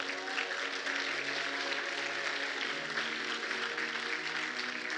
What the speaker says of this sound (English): Now give yourself a round of applause